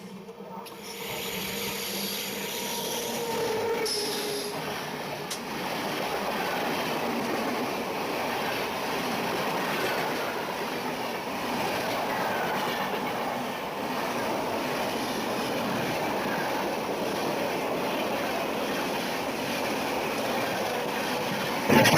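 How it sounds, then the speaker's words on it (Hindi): Express train ride in India with another superfast express crossing at speed, a steady loud rumble and rattle of rail travel filling the whole stretch, with a brief sharper burst near the start and a jolt at the end. "तो अभी हमारे सामने क्रॉसिंग के लिए आ रही है train number 12833 Ahmedabad Howrah superfast express."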